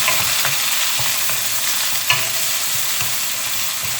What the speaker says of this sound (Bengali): এবার ভেজিটেবলগুলো ফ্রাই করে নেব।